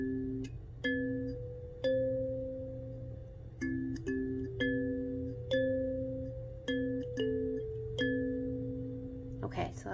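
Kalimba plucked without an amp, a slow melody of clear, bell-like tines ringing and decaying one after another over a low background hum, fairly quiet and close, with a brief rustle at the end.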